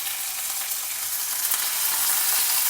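Dry red chillies and curry leaves fry in hot oil with mustard seeds, giving a steady, close, bright sizzle and crackle with no talking.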